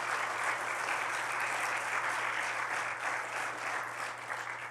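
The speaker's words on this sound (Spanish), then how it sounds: "Denle un aplauso a Cristo." A church congregation claps steadily during a Spanish-language sermon, dense even applause filling the space with a low electrical hum beneath.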